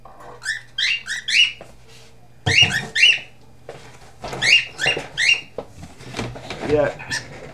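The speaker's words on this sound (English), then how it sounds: "See my bird? Here's my bird." Pet bird chirping in a room, repeated bursts of high sharp chirps and squeaky whistles in irregular clusters, close and fairly loud with a steady low hum underneath.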